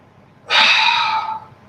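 A single deep breath drawn in during a post-COVID diaphragm stretching exercise, a close, airy inhalation lasting about a second with no talking.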